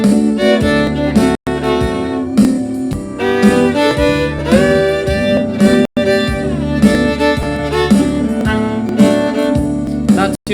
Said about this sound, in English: Regular double stops, like notes that are in the chord, sound like this.